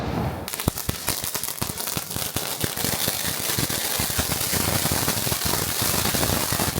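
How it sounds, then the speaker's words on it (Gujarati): Diwali firecrackers crackle in a dense, rapid string of sharp pops lasting several seconds, loud and close, with no voices over the bursts. "ફટાકડા ખાલી કરવા હાટું થઈને અત્યારે ફટાકડા ફોડે."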